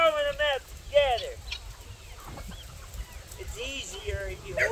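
Young purebred chickens at a homestead cluck and call in short, close bursts, several birds overlapping, louder at the start and again near the end, over a soft farmyard background.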